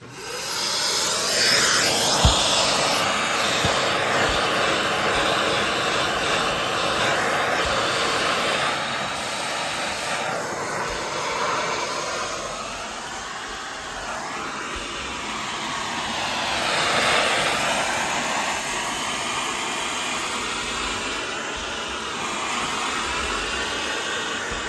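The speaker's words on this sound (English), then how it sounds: "I'm just going to go along with the vacuum cleaner" A vacuum cleaner sucking up debris from a model railway platform after a gauge error, a steady loud whooshing roar that runs for the whole stretch with shifting pitch as the nozzle moves.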